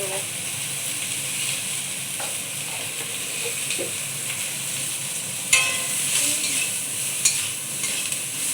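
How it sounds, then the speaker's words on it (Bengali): Eggplant fries in oil in a home kitchen with a steady close sizzle, broken by a few sharp clinks of stirring. "বেগুনগুলোকে আমি ভালো করে ভেজে নেব"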